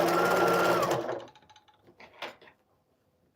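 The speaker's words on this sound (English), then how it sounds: "now I'm going to have to sew this right" A sewing machine runs a fast, steady stitching whir on a table runner for about a second, then stops, followed by quiet scattered clicks and handling of fabric and parts.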